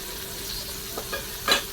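Mandeli fish frying in oil on a flat tava, a faint steady sizzle with a few short scraping clinks near the end.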